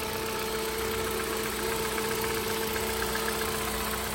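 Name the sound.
Hyundai 2016 car 1500cc engine idling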